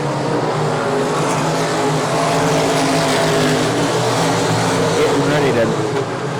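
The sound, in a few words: dirt track race cars racing past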